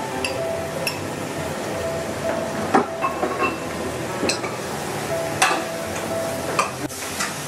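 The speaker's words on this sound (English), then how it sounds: "Now you can see the lamb is nicely sauteed, nicely brun out" Lamb pieces sauté in hot oil in a pan for Rajasthani lal maans, a steady frying hiss with scattered clinks of a spoon against the pan and occasional louder knocks, no voices.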